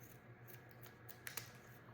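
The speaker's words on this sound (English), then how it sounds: "let me grab my scissors, and I'm going to cut the lantern part" Scissors snipping through a paper sticker, heard as a few quiet, close crisp cuts over a soft background hiss, with the sharpest snips near the end.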